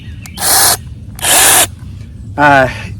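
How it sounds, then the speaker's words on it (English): A six-inch NaTiddy battery mini chainsaw runs in three short, loud bursts close to the microphone, each a whirring buzz with quiet pauses between, the last rising in a clear motor whine. "this is my little NaTiddy mini chainsaw"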